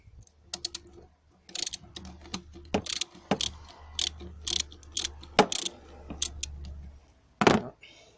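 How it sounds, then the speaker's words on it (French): A 10 mm ratchet wrench loosens a screw on the EGR valve of a 1.6 HDI engine, giving bursts of sharp clicking pawl strokes up close, separated by short pauses, with a final loud clank. "Ici, il me faudrait une clé de 10. Donc voilà. Je vais dévisser cette vis là."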